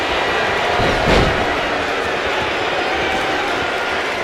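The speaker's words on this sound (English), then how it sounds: "Listen to this crowd." A loud, continuous crowd roar fills a WWE 2K25 wrestling match, with a brief swell near the start and a dense, steady wash of noise throughout.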